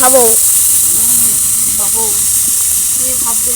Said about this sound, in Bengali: এক ফোঁটা জল ছিল আর তার তেলে পড়তে একদম ছটফট ছটফট করে দিল